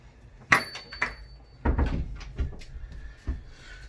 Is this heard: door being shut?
yes